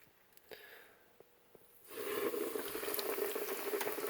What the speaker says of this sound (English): let's watch this temperature climb as the oil is stirred around